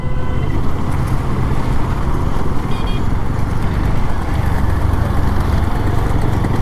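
An overloaded bhotbhoti motor cart rumbling on a road, its engine a loud, continuous, close chugging drone that holds steady with no break.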